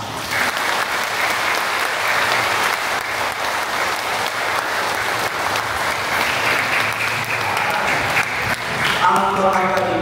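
Loud, sustained applause from a church congregation at the National Shrine of Jesus Nazareno, a dense steady wash of many hands lasting throughout, with voices faintly under it and a sharper burst near the end.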